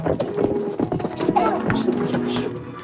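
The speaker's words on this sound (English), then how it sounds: "There isn't a horse in the state that can beat Fury." Horses gallop in a race toward a gate, hoofbeats clattering under a busy mix of other noise and murmuring, moderately loud and close throughout.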